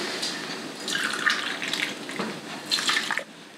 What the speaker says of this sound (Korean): 200ml 컵으로 6컵을 붓고 육수를 낼 겁니다